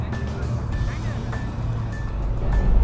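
A car rolls by itself in neutral on Magnetic Hill near Leh, Ladakh, heard from inside as a steady low road rumble with a faint hum and voices in the background.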